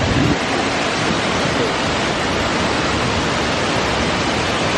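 A waterfall in Mindanao gives off a steady, dense roar of falling water that fills the whole few seconds at constant loudness, with no voices heard.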